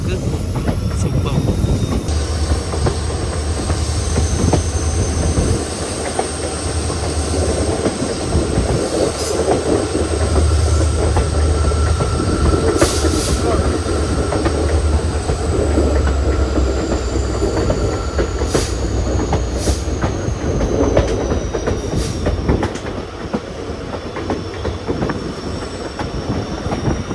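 A train rolls along the Kollam to Aryankavu line, a 120-year-old Kerala railway, with a loud steady rumble, wheel clatter and occasional thin squeals throughout, a faint voice now and then underneath.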